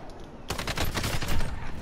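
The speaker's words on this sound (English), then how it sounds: "I forgot that this is a an SMG, so it doesn't really count as a rifle" A submachine gun fires in a video game, a loud continuous burst of rapid shots that begins abruptly and runs without pause to the end.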